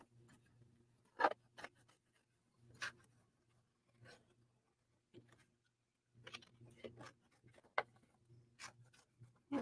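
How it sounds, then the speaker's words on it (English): Paper being roughly cut with scissors for a pop-up card, quiet intermittent snips and rustles spaced a second or so apart, close by and faint. "So I'm going to roughly cut this out."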